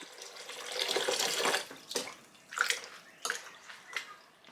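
Water running and splashing in a sink while raw chicken meat is rinsed in lemon water, a steady gush at first, then several separate splashes and drips close by, with no speech.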